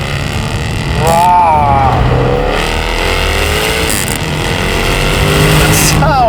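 A Jaguar F-Type R engine revs while driving, loud and close, with rising and falling pitch sweeps over a steady road roar and a few sharp bursts of throttle.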